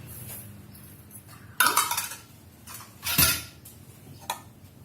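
A spoon scrapes and clinks against a bowl while date cake batter is stirred by hand, with a couple of louder knocks and scrapes amid quieter clinking and no talk.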